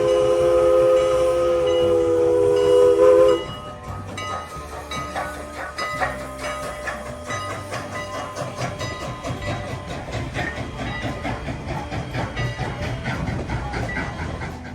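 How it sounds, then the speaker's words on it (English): A train passing through corn fields in Lancaster County, Pennsylvania, opening with a long, loud whistle blast before the rumbling, clattering rail noise of the passing cars carries on steadily to the end. "here it comes, the first train of the day"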